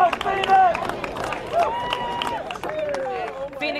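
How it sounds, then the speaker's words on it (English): Fans cheering and clapping to welcome the returning UWGB Phoenix men's basketball team on campus, a loud excited crowd with whoops, shouts and applause throughout. "Phoenix fans cheering for their champs as they return back to the UWGB campus"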